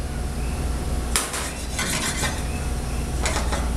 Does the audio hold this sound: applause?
no